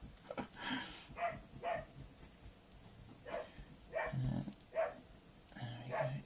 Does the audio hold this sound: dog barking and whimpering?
yes